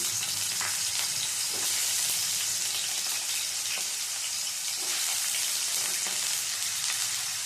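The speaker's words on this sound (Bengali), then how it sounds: "জিরেটা থেকে ফোড়নের সুন্দর গন্ধ বেরোলে দিয়ে দেবো এর মধ্যে ডুম ডুম করে কেটে রাখা আলু" Diced potatoes fry in hot oil tempered with cumin, producing a steady loud sizzle with occasional stirring knocks throughout and no talking.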